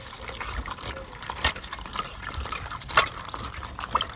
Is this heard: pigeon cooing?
no